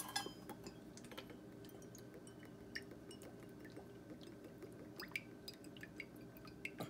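Soy sauce poured for a beef jerky marinade, faint liquid trickles and drips with small glassy clinks scattered through a quiet kitchen.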